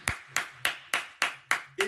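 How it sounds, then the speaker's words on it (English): Six sharp hand claps land at a steady, unhurried beat as a round of applause for a storyteller. They are close and fairly loud, with no other voices. "Let's give her another round of applause"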